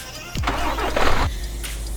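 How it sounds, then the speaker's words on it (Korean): A Hyundai Universe bus engine starting in the MudRunner off-road game: a short cranking burst that catches into a steady, loud mid-pitched idle, with no talking. "자 그러면 스타트 엔진 눌러보겠습니다"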